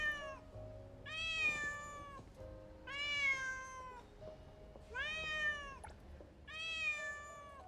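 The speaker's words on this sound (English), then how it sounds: "I perked up real quick as soon as I heard the cat" Cat meowing in the Neverness To Everness video game: five loud, drawn-out meows at a regular pace about every one and a half seconds, close and clear with a faint steady tone underneath.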